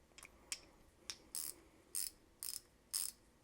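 A stubby quarter-inch ratchet clicks through its mechanism up close, with a steady series of sharp, bright ticks spaced evenly apart in a quiet room.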